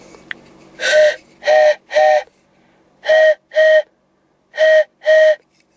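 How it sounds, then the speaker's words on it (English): A whistle blown in seven short, loud, tonal blasts: three in a quick group, then two, then a final pair, with silence between. "this is a whistle"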